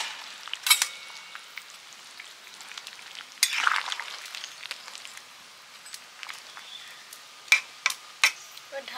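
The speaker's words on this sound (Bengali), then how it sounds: "ঝালটা ফুটে গেছে, এবার মাছ আর মাছের ডিম দিয়ে দিচ্ছি।" Fish and fish roe go into a bubbling fish jhal curry made with amaranth stems, set on a stove. A gentle, continuous sizzle and bubbling runs throughout, with a few sharp utensil clinks and splashes near the start and end.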